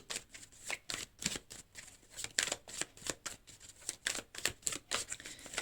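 Tarot cards are shuffled by hand in quick, rhythmic bursts of riffling and slapping, close and crisp, repeating steadily for several seconds without speech.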